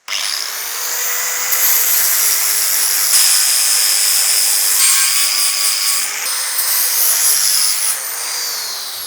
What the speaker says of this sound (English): I've hit all the welds with the grinder